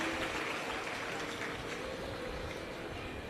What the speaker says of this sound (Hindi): एक बार सभी के लिए जोरदार ताली बजाकर साधुवाद वंदन अभिनंदन